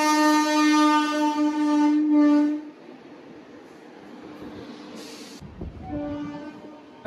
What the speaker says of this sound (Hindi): वहां से एक और ट्रेन आ गई।